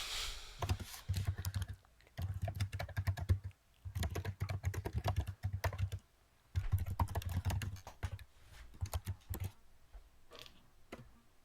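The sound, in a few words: typing on a computer keyboard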